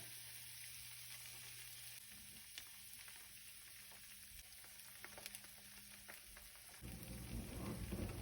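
Garlic frying in salted butter in a pan, a steady faint hiss of sizzling with soft scattered crackles throughout.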